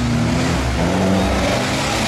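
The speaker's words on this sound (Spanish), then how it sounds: "no saca el pie del acelerador." A four-cylinder race car accelerates at full throttle in a competition, the engine holding a loud, sustained drone that shifts slightly in pitch as it pulls, with no talk over it.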